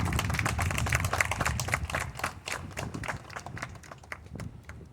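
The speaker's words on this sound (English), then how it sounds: "Let's all give New York's finest, the NYPD, a round of applause." Applause for NYPD officers at an outdoor vigil in Queens, New York: a crowd claps steadily and fairly loudly throughout, a dense patter of hand claps with no talk over it, slowly thinning toward the end.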